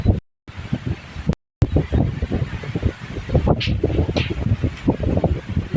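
Sea wind buffets the microphone on a beach, a rough, rumbling roar that gusts unevenly and cuts out briefly twice near the start. There is no clear speech.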